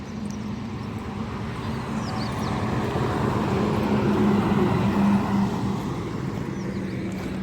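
A small village tumtum auto rickshaw runs along a rural road near a highway, its steady engine drone and road rumble holding fairly loud and continuous throughout with no clear approach or fade.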